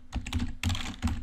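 Fast, steady clatter of computer keyboard keys being typed while writing code, close and clear with no talking.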